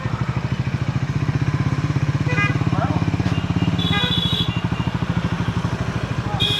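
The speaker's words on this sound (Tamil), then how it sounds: "உள்ளே போய் வண்டியை பார்க் பண்ணிடுவோம்." A motorbike rides at a steady pace toward a parking spot, its engine giving a loud, continuous, rapidly pulsing putter close by, with a few faint higher tones sounding briefly over it.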